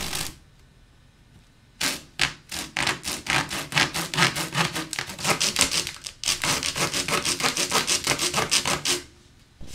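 A handsaw cuts grooves into stacked book signatures for binding, a rapid run of rhythmic rasping strokes, close and loud, pausing briefly before continuing.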